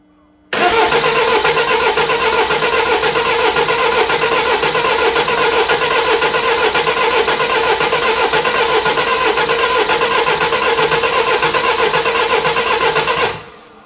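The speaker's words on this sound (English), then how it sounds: "Hopefully the car will start. Well, hopefully the car will crank." A Mini Clubman diesel, parked up for two years with a tired battery, cranks continuously for about thirteen seconds, a loud, close, steady churning whir of the starter that never catches before cutting off.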